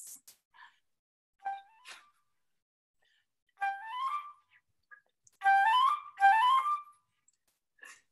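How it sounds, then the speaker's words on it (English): Papageno's bird-catcher pipes played to call birds, short high piping phrases and rising whistled runs in bursts separated by silence, clear and close. "And he uses these pipes to call the birds before he catches"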